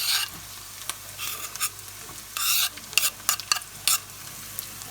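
Chopped onion and garlic sauté over medium heat in a pan, with a steady soft sizzle broken by intermittent bursts of scraping and stirring, close and fairly quiet with no talking.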